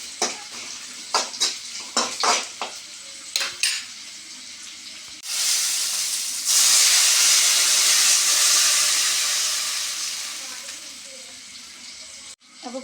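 Tamarind water poured into a hot cooking pan, first a few sharp clinks and stirring taps, then a loud, sustained hissing sizzle as the liquid hits the heat and slowly settles.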